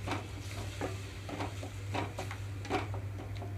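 Spinach (palak) frying in a pan over a medium flame gives a soft, quiet sizzle broken by intermittent stirring scrapes and light clatters.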